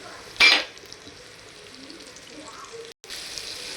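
Ground coconut, onion, garlic and coriander masala is tipped into hot oil with curry leaves and fries with a short loud burst of hiss at first, then a steady quieter sizzle.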